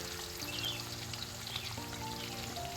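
Onions sizzle quietly in hot oil while duck kosha is being cooked, a soft continuous crackle running the whole time beneath a faint tonal hum.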